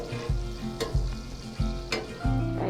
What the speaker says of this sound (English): A good tablespoonful of butter. Hear that sizzle?